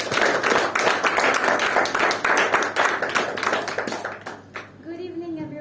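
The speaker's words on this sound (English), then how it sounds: "Everyone, a round of claps for Shatra." Audience clapping at an evening Toastmasters club meeting, a fairly close burst of individual claps that thins out toward the end before a voice begins to speak.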